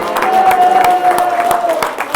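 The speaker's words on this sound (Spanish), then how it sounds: "¿Cuánto le da un aplauso al Señor, hermano?" Inside a church during a Sunday sermon, the congregation breaks into steady, fairly loud applause, many hands clapping together while a sustained tone and a voice carry faintly underneath.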